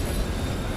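A tram in a video game rolling past, a dense, loud rumbling rail clatter with a high metallic whine, heard close and without talk over it.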